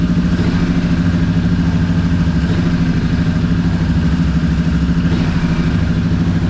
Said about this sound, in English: I wonder whether the bike was running a bit roughly.